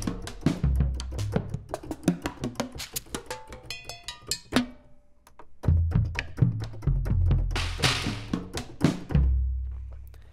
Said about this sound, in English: The Paperstone Junk kit is constructed of broken and reclaimed drums, as well as other objects which sound drum-like